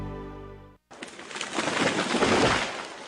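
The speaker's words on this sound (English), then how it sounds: "That was the sound of a tree falling." A tree falls with a sudden loud, rushing crash of branches and foliage that swells and holds for about two seconds, preceded by a brief tonal sound and a short silence.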